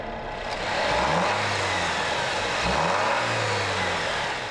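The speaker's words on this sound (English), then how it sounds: "we got our legendary Hemi V8." Jeep Hemi V8 engine revving up and settling back twice, a loud close roar with rising and falling pitch and no voices.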